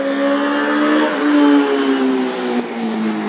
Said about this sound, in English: Ooh, that's a loud motor there.